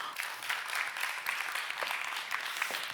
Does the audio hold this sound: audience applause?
yes